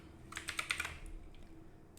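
Quick, soft taps on a computer keyboard as a form name is typed, a short run of keystrokes lasting under a second, close and quiet with no talking.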